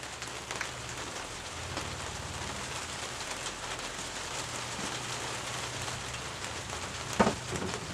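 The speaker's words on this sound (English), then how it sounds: "If you can hear, it has started raining." Rain falling outdoors in a garden, a steady soft patter of drops on surfaces with a brief nearby knock near the end, no voices.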